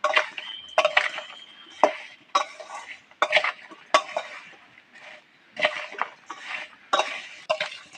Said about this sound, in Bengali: দেখো আমি মশলাগুলো দিয়ে এটাকে ভালো করে মাখাচ্ছি।